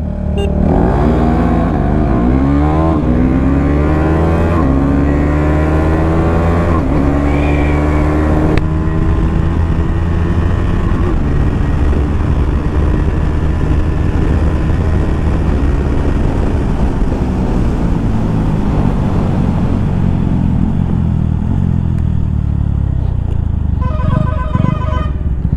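A KTM Duke 390 motorcycle with a normal exhaust revs up loudly and repeatedly, then launches, its engine note rising and falling and fading as it pulls away, loud and close throughout.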